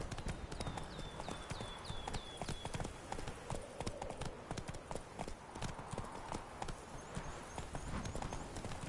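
Roach the horse galloping in The Witcher 3, steady rhythmic hoofbeats clip-clopping at a quick pace throughout, fairly close, with a voice briefly urging the horse on.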